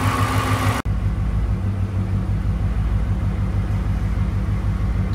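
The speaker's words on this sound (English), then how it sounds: "I'm going to let it idle. I'm going to let it get fully up to temperature" A car engine idles steadily while warming up after a blown-motor repair, a low, even mid-pitched rumble close by, alone after a brief louder burst at the start.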